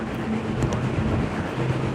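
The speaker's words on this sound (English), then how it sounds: "So that ambient noise you're hearing, that's the wind" Storm wind roaring steadily past a 7th-floor balcony, a low continuous rumble and buffeting with no breaks and no voices, loud and close to the microphone.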